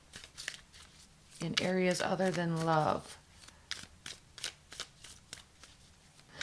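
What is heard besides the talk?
shuffling tarot cards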